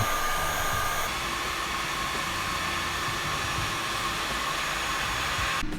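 A heat gun blows a steady, loud rushing stream of hot air onto an Evo 9 plastic bumper, continuous and close with no talking.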